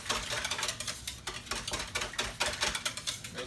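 Milk and cinnamon being stirred for a French toast casserole, a steady scraping, clinking whisk or spoon working against a bowl in quick repeated strokes, close and fairly loud with no talking.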